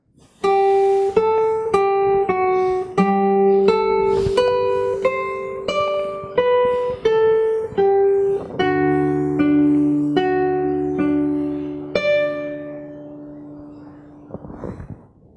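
Fingerstyle acoustic guitar playing a passage of a piece, clear plucked notes in a flowing melody over ringing bass strings, ending on a sustained chord that fades out.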